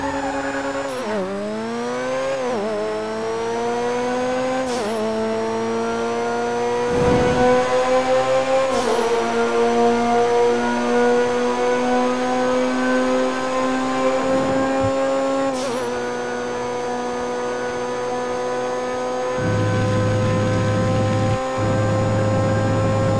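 Carbon Azure car engine in GTA 5, revving hard and climbing through gear changes with a crisp, high-pitched whine, loud and close, with brief dips between shifts and occasional tire noise, with no voices.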